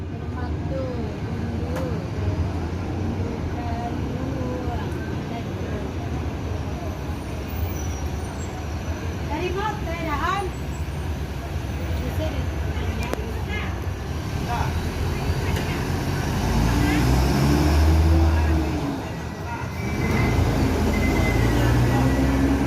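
A Bintang Permata Bunda bus pulls into a terminal, entering at the front beside a market. Its engine rumbles steadily and swells toward the end, while people talk over it.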